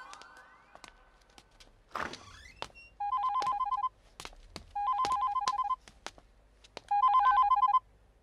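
A telephone bell rings in three distinct bursts, each about a second long with short pauses between, preceded by a few thuds and a rustle in an otherwise quiet room.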